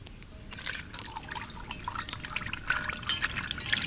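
Cold-pressed sesame oil from a wooden press pours in a thin, steady trickle for an elephant foot yam and mutton dish, a soft close liquid stream with a few faint drips toward the end.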